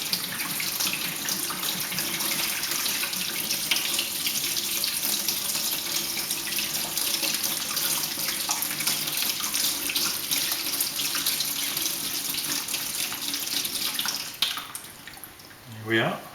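Steady rush of tap water running into a sink while rinsing out a vessel after making Ribena wine, continuous and close, ending with a brief change as the flow is interrupted.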